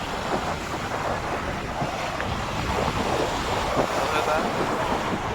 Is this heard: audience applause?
no